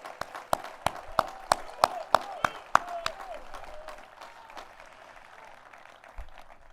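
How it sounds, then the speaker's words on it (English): A commencement audience claps for faculty and staff, starting as sharp, separate nearby claps in a loose rhythm and then thinning into a softer, scattered patter as it fades. "I'd ask everyone to please join me in a well-deserved round of applause for our fantastic faculty and staff."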